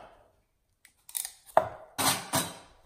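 A knife slices through the stem end of a peeled squash, giving a few sharp, close cutting and tapping sounds on a board after a short silence.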